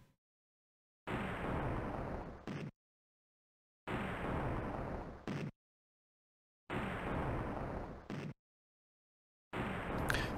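Torpedo hits in the naval war game Carriers at War come as four evenly spaced bursts of broad rumbling explosion noise, each lasting about a second and a half and separated by complete silence, with no voices.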